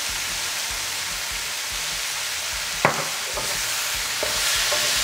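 Ginger chicken stir-frying in sesame oil in a pan, a loud, dense, continuous sizzle with a few sharp utensil knocks and scrapes, up close and without voices.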